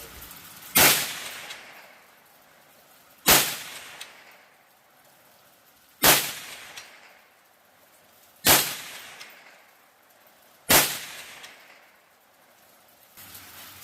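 Five sharp, evenly spaced gunshots from a .22 WMR firearm loaded with CCI Maxi Mag 40-grain hollow point rounds, each a loud crack with a brief decaying tail, separated by quiet gaps of about two and a half seconds.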